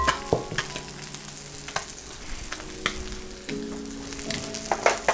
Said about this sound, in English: So crab cakes are cooking.